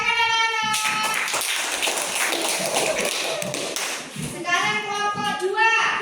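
Schoolchildren clap along at a class gardening project, a dense burst of rapid hand claps running through the middle under overlapping children's voices and speech.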